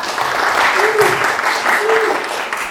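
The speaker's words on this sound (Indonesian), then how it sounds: "Kita beri tepuk tangan untuk teman-teman kita." Classmates in an Islamic studies class applaud together, a dense, steady wash of clapping lasting the whole stretch, with a voice briefly audible underneath.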